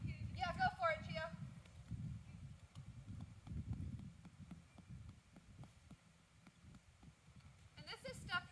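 A fresh, energetic horse moves along a horse archery track, its hooves giving a faint, irregular clip-clop of footfalls through most of the clip, with someone speaking briefly near the start and again at the end.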